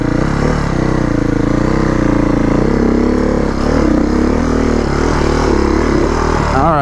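Beta 480RR enduro motorcycle engine running close and loud on mountain trails, a continuous throaty drone with rising and falling revs throughout.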